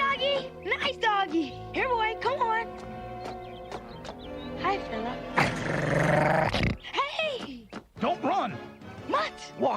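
A dog growls and snarls in a sequence of harsh bursts, joined by a long rough stretch in the middle, while someone speaks calmly over it.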